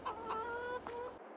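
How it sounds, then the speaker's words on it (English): Chickens clucking in the Western Wilds video game, a few short close clucks and squawks in quick succession, then the sound cuts off. "You're just chickens after all."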